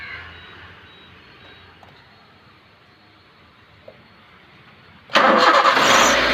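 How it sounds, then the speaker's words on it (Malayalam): A Maruti Suzuki Baleno with a steering noise fault starts up after a quiet stretch, the engine cranking and catching abruptly into a loud, steady idle close by. "ഇനി നമുക്ക് വണ്ടി ഒന്ന് സ്റ്റാർട്ട് ചെയ്തിട്ട് ഒന്ന് സ്റ്റിയറിംഗ് ഒടിച്ചിട്ട് സൗണ്ട് കേൾക്കുന്നുണ്ടോ ഇല്ലയോ നോക്കാം"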